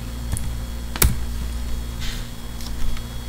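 Keystrokes on a computer keyboard while entering a command on a Windows PC: a few soft, scattered clicks with one sharper tap, heard close against a steady low electrical hum.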